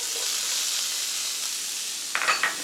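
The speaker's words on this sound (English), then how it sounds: "Now my onions have been sauteing for about 2 minutes" Half a diced white onion sautés in leftover bacon grease in a skillet, giving a soft, even sizzle and a brief stirring clatter near the end.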